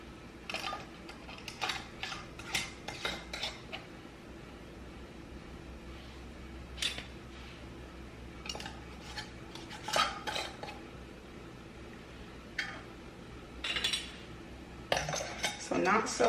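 Metal screw bands clink and scrape as they are turned finger tight onto glass canning jars, with scattered light taps and rattles spread over a quiet kitchen background.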